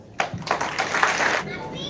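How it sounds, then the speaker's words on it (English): An audience in a hall applauds after a speaker is introduced at a motivational talk event, a short burst of mixed hand clapping and scattered voices that swells and then fades within two seconds. "Thank you for that great applause."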